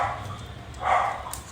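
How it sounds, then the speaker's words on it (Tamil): A dog barks somewhere off in the distance, a muffled single bark rising in the middle over a low steady background hum, faint and indistinct. "நாய் கத்த ஆரம்பிச்சிச்சு, யார் வந்தாங்கன்னு தெரியல."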